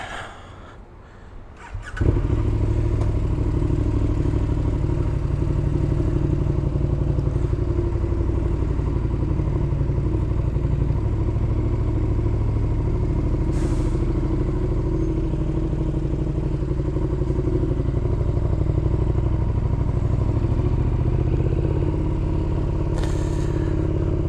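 A motorcycle engine starts with a brief clatter, then settles into a loud, steady idle and throaty rumble close by. It holds for over twenty seconds with little change, and no one speaks.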